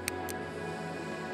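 A steady, sustained synth pad made from a compressed, distorted sine wave, with a gritty, distorted drone that holds evenly throughout, with two brief faint clicks near the start.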